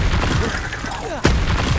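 Expelliarmus spell cast in Hogwarts Legacy on PS5, a sharp burst with a quick whooshing sweep before it, loud and close amid dense game noise.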